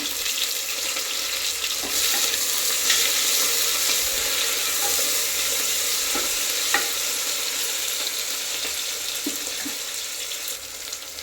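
Mint leaves and coriander stirred and fried in a pan while making fenugreek-leaf rice bath: a steady, close sizzle with soft scraping stir strokes and a few light clinks, with no talking.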